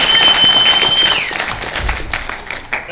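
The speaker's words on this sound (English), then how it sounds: "Give them a round of applause again," Brief applause rises from a convention audience, a busy patter of clapping that fades over a few seconds with some faint voices mixed in.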